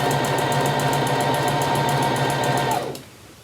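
A sewing machine runs at a fast, steady stitching rhythm, close and loud, for nearly three seconds before cutting off abruptly, leaving a quiet room tone.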